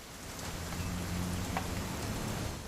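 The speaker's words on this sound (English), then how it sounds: "It's gonna rain the whole weekend," Steady rain falls continuously throughout, a dense even patter with a low rumbling undertone, fairly close and with no voices.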